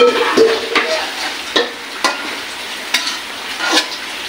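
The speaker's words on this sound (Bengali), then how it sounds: "একটু লাড়াচাড়া দিয়ে দিই" A spoon stirs kabsa in a cooking pot, scraping and knocking in a series of sharp, close strokes over a faint background sizzle.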